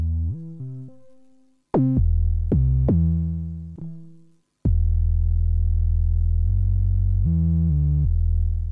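A synth sub bass from the Ableton Note app plays a short melodic line of deep, smooth, sine-like notes, some brief and some sustained, clean and loud with nothing else around them.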